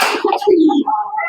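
Racing pigeons of a Taliban line coo at close range in a short, loud, throaty burst with a few soft wing or body noises, no talk.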